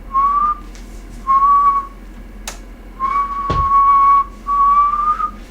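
A person whistles a steady, pure tone in four sustained notes separated by short pauses, heard close and clear, with a sharp click partway through and no talking.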